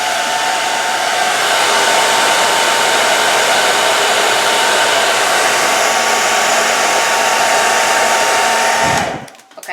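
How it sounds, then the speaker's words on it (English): A blow dryer heating a nail wrap blows a loud, steady airy roar, continuous at close range for about nine seconds before cutting off abruptly. "now I'm going to use the blow dryer again and apply pressure to the nail"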